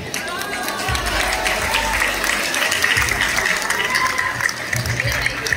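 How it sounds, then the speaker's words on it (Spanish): A crowd at the patron-saint fiesta in San Agustín Tlacotepec applauding to welcome the traditional dance group from the Buenavista ranchería, sustained clapping with a voice speaking over it. "Un aplauso fuerte para recibir la participación de la ranchería de Buenavista"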